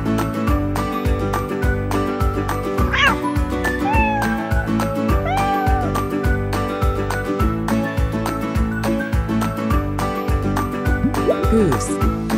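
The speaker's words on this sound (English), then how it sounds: "Cat." A cat meows several times in rising, drawn-out calls over bright, bouncy children's music with a steady beat.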